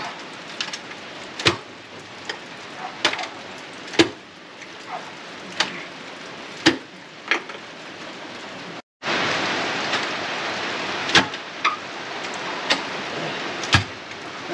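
Steady rain falls on a homestead with a chicken coop, a continuous hiss broken by sharp drips or taps at irregular intervals, with a brief pause before the downpour sounds louder and denser.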